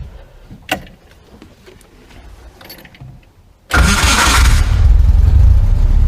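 An old car's engine cranks briefly and catches, jumping from a quiet background into a loud, steady running roar that continues to the end.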